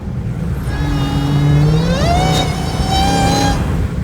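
A Dodge Hellcat with a K&N Series 69 Typhoon cold air intake revs up close, its supercharger whine rising sharply over the loud engine roar before holding steady and fading back.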